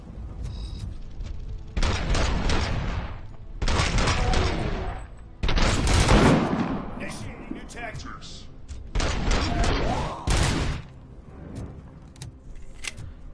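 Sniper gunfire in the Robocop: Rogue City video game, heard as a few loud, broad bursts of shots separated by brief gaps, some with a boomy tail, under game noise.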